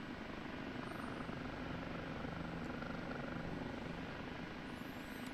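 Steady, muffled rotor and turbine drone from an OH-58D Kiowa Warrior helicopter in the DCS flight simulator, a constant cockpit hum with no other sounds over it.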